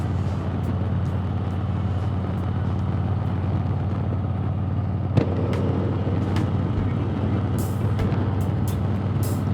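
A 2021 Harley-Davidson Heritage Classic 114 motorcycle on a test ride, its engine a loud, constant low rumble mixed with heavy wind roar, with a couple of faint clicks along the way.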